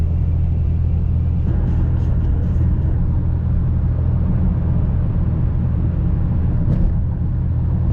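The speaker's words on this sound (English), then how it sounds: "We have 3 hours of driving to do." A car drives steadily on a long road trip, with a constant loud low road rumble and interior drone and only faint brief ticks above it.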